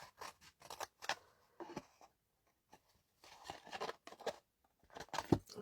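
Scissors trim small strips of card for a gift box made to hold ten cards, a series of quiet, crisp close-up snips in short bursts separated by pauses.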